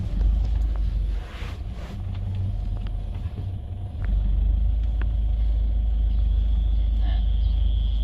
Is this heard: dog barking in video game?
no